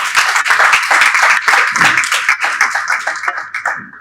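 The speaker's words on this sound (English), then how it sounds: "A resounding round of applause." Loud, close clapping from an audience at a digital skills education event in Africa, with distinct individual claps in a brisk, uneven rhythm that gradually eases off.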